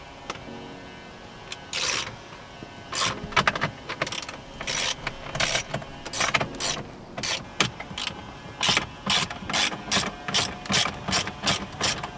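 A ratchet wrench backs out 8mm bolts from the kick panel of an Audi C7 4.0T, with bursts of quick close clicking separated by short pauses and no talking.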